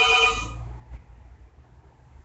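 A telephone rings once in a short burst, loud and close, then fades into quiet room hum, with a faint blip right at the end.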